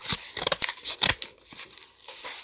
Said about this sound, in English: I'm just gonna cut this carefully